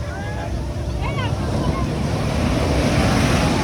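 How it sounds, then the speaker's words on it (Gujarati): Big sea waves break and wash ashore at Shivrajpur beach near Dwarka, a continuous loud surf roar with heavy wind buffeting the microphone and faint voices in the background. "મોટી લેર આવી ભાઈ મોટી લેર આવી"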